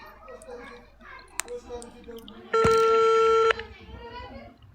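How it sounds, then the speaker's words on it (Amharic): A phone ringback tone during an outgoing call sounds as one sustained electronic ring, loud and close, amid faint clicks and low background noise. "እየጠራ ነው ስልኳ።"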